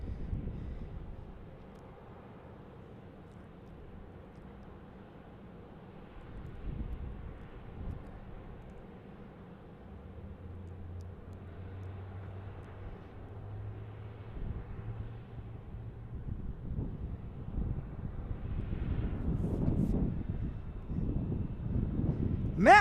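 Delta airliner at Tucson International Airport, a faint, distant engine rumble that swells slowly toward the end, mixed with wind noise on the microphone.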